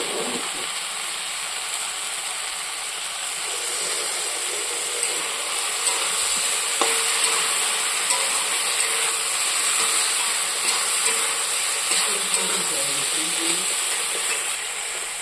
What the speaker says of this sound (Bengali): মশলাটা আমি ধুয়ে ভাজছি আর কি, যাতে গন্ধটা চলে যায়।